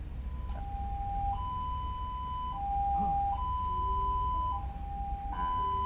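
An ambulance siren used for non-emergency patients sounds nearby in a slow two-tone wail, stepping back and forth between a higher and lower pitch over a steady engine rumble.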